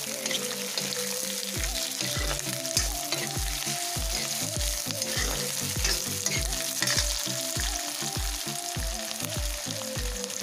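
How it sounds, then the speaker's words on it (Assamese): Potatoes fry in a pan for a chicken curry while a spoon stirs them, making a continuous sizzle broken by rhythmic low scraping thumps throughout. "এতিয়া মই আলুটো বহাই দিলোঁ, দি অকণমান লৰাই দিছোঁ।"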